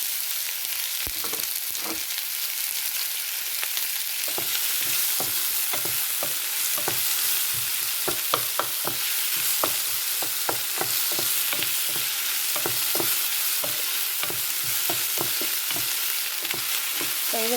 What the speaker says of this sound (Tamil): இது நல்லா வதங்கி வரணும்.